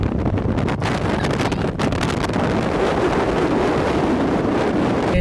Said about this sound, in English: It's way too windy to stay here.